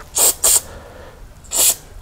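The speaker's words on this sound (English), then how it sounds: "And then when you spray this solvent" Solvent sprayed from an aerosol can into the holes of a Walbro HDB carburetor during a rebuild: two quick hissing bursts close together, a pause, then a third short spray, close and loud.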